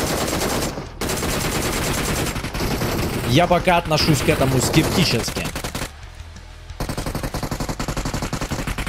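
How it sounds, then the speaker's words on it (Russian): Rapid bursts of video game gunfire, loud and sustained, with a brief pause near the middle; someone talks over part of it. "Погнала стрельба здесь справа-слева"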